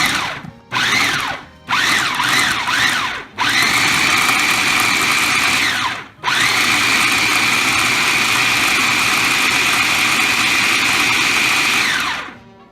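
Blender pulsing beer cheese made with cheddar: a few short whirring bursts, then a long steady loud motor whine with a brief stop, close and alone.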